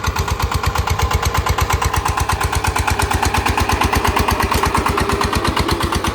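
A tractor engine chugs nearby in a fast, even rhythm, idling loudly without pause.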